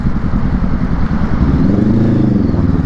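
Motorcycle cruising on the SLEX expressway in Laguna, a steady loud engine drone with wind rush, continuous and close, no speech.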